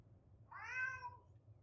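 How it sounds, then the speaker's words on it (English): A game cat named Leo in the modded Kenshi lets out a single clear meow, rising then falling, close and alone over a low background hum. "Leo's just gonna meow."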